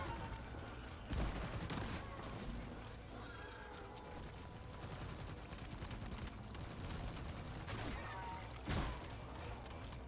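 Turret gunfire in Deep Rock Galactic rattles in bursts at tiny swarmer enemies, sustained crackling under a busy game mix with a few heavier booming hits spaced through it, and a voice talking over the action.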